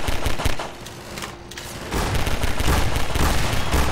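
An automatic turret in Half-Life 2 fires rapid bursts in a noisy arena, dense loud rattling that drops briefly in the middle and then resumes at full force.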